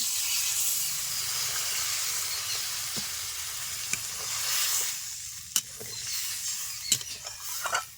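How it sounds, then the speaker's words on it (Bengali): Hot oil and pan contents sizzle and hiss steadily after water is poured in for an egg and young jackfruit poppy-seed curry, with occasional sharp clicks of a utensil against the pan. "এখন দিয়ে দিচ্ছি পরিমাণ মতো জল"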